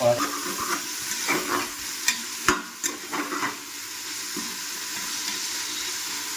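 Onions and tomato frying for mutton liver chukka, a steady close sizzle with stirring scrapes and a few sharper clinks of a utensil against the pan, continuous throughout.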